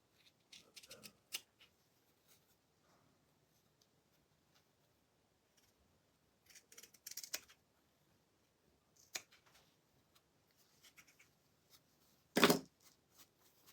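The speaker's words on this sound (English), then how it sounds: "These little fabric scissors." Small fabric scissors trimming fabric, heard as a few quiet, close snips and rustles in scattered bursts with long near-silent gaps, the sharpest cut coming late.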